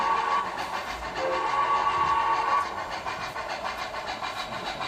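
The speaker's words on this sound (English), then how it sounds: "you just pull down the whistle, just like a whistle in a real cab" MTH model train whistle blowing at close range, a steady sustained whistle tone that fades after a few seconds while mechanical running noise continues underneath.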